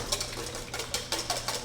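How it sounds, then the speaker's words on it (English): Quick rhythmic whisking of eggs for an omelet in a bowl, a run of short bright scraping strokes close by, with no talk. "Give it a little bit of a whisk."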